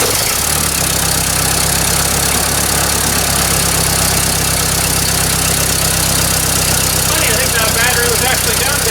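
An old engine being run with the choke out, heard as a loud, steady idling drone with a low, rough rhythmic pulse throughout, with people talking over it.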